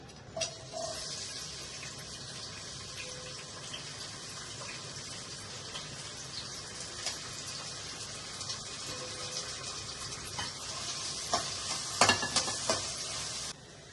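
Onion frying in oil in a kadai for a Guntur prawn egg curry, a steady hiss of sizzling with occasional scraping and stirring clatters, louder toward the end.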